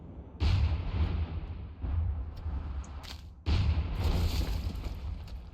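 A tank cannon in Minecraft fires, two heavy booms, the second followed by a rumbling tail, with a low steady engine drone underneath and a few faint clicks.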